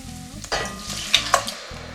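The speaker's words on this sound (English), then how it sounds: "I'm going to add the tomatoes." Tomatoes drop into a hot pan with anchovies, setting off a steady close sizzle and frying hiss, with a spoon stirring and clinking against the pan in short bursts.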